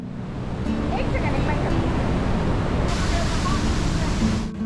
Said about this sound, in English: This vantage point platform juts out into the raging waterfall